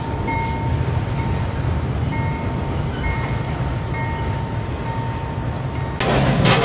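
A slow-moving freight train rumbles steadily with a broad low roar and faint tonal squeals, swelling into a louder burst of noise near the end.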